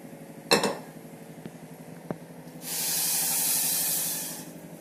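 Half a cup of water poured into a pot of sugar to make syrup for badusha, heard as a steady broad hissing pour lasting about two seconds, preceded by a few light clinks of a vessel.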